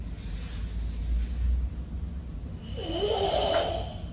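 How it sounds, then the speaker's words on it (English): Heavy, forceful breathing during Sanchin karate kata, with a steady rhythm, a long pushed exhale followed by a harsher, hissing breath toward the end. "Listen to the breathing rhythm."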